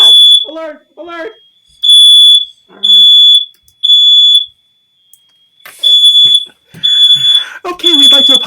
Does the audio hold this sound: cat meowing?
no